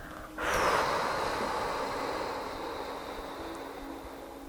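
A slow, deep exhale during a guided breathing meditation, a soft close airy rush that swells quickly and then trails off gradually over several seconds, heard alone with no talk.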